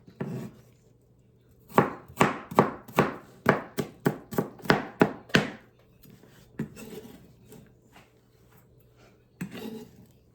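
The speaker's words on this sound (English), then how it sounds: "I'm going to finish chopping these up" A run of sharp knife chops on a cutting board, about a dozen quick strokes in a steady rhythm, then a few scattered taps, close and clear.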